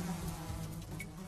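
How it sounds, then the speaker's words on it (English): A hive full of bees buzzing in a steady, continuous drone that carries through the whole short moment with no voices over it. "a hive full of bees?"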